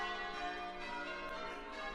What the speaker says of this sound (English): you'll be able to hear the bells at Croft Church, just outside Wainfleet, which are ringing